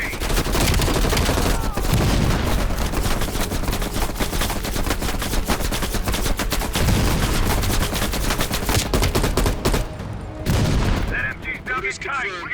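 Near-constant loud machine gun fire and scattered explosions fill a Call of Duty: Black Ops Cold War battle, rapid bursts overlapping throughout with voices mixed in underneath.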